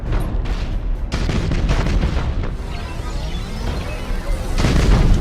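Heavy rumbling blasts as an enemy warship explodes in the space battle game Battlefleet Gothic Armada, loud continuous booming with sharp cracks layered over a dense roar.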